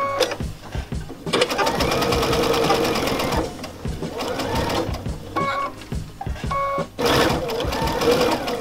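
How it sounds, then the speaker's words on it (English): Sewing machine stitching fabric strips together for crazy patchwork, running in steady bursts of rapid needle chatter with short pauses between seams, close and fairly loud. "I'm going to stitch it all the way across this strip here"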